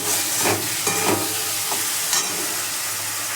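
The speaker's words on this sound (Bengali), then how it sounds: "নুন দিলে আমরা তরকারিটাকে কষাবো" Rohu fish curry with cauliflower and potato being stirred and sautéed in a pan with salt, a steady frying sizzle and hiss with scraping stir strokes, close and continuous, no voices.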